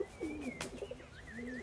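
Rock doves cooing in a soft series of low, rolling calls, close by and alone, with faint higher bird chirps in the background.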